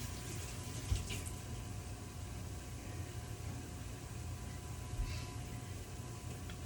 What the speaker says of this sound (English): I am just gonna go ahead and rinse this really quick with my fine mesh screen